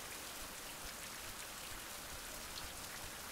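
Steady rain falls in a survival video game on an exposed mountainside, a dense, even hiss of drops hitting surfaces with no voices over it.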